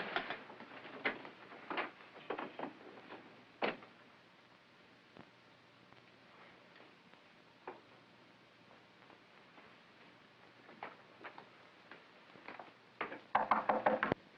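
Faint knocks on a door come in scattered raps over a quiet background, with a louder cluster of rapid knocking at the end.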